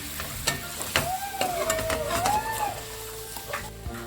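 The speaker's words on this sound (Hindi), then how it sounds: "और अभी हम इन सबको अच्छे से मिक्स करेंगे।" Chicken sizzles in a pan as biryani masala is stirred in, giving a constant frying hiss with repeated utensil scrapes and clinks, plus a brief wavering whistle-like tone partway through.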